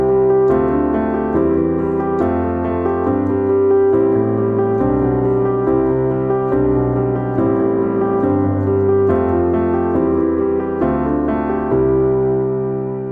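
Worship-style piano plays sustained chords struck on every beat, a steady quarter-note rhythm with changing harmonies, close and clear with no talking.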